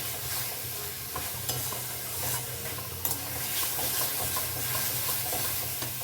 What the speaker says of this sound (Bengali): এই কষানো প্রায় আমার হয়ে গেছে